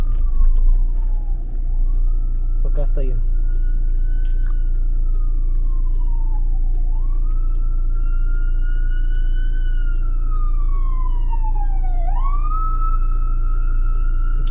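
A fire truck siren wails in rising and falling sweeps as it moves through traffic, loud and steady over the low rumble of a stopped vehicle's engine, with a brief voice early on.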